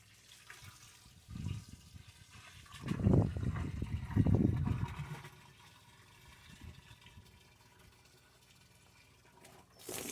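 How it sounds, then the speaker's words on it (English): Water pours into a compost tea bucket in a few gushing bursts, the strongest surges near the middle, before tapering to a faint trickle. "So we're gonna add a bunch of water to this."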